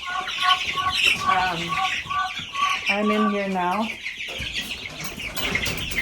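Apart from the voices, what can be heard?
chickens clucking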